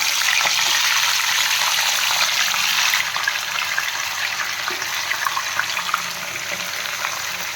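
Chicken sizzles steadily in hot oil for Malai chicken, a dense, loud frying hiss that continues without pause and eases slightly partway through.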